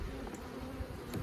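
Honeybees hum steadily inside a Langstroth hive holding brood and few bees, a soft continuous buzz close up, with no talking.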